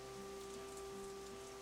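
Rain falls on city streets in the visual novel Katawa Shoujo, a steady faint hiss of drops under a sustained background music tone, with no voices.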